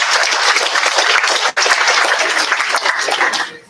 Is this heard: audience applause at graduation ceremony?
yes